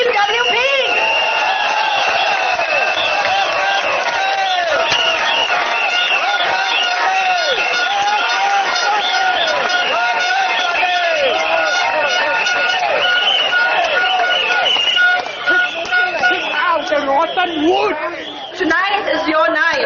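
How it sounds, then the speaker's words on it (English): A large rally crowd at a Workers' Party election event at Marine Parade in 2015 cheers, whoops and chatters loudly and continuously, a dense sustained roar with a brief dip near the end. "let's have a loud round of applause for Team WP."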